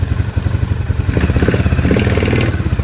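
A four-wheeler ATV engine runs close by in reverse, its idle chugging rising into a throbbing, revving growl as the throttle opens partway through.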